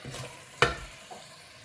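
Vegetables are stirred in a cooking pan, with one sharp scrape of the spoon against the metal and a fainter scrape after it, over a low steady sizzle. There is no talk.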